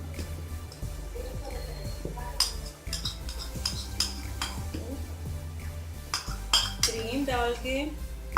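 Cream being spooned into a bowl for creamy fruit chaat, with close clinks and taps of a spoon against the dish and soft scraping, irregular and fairly quiet, with a little talking.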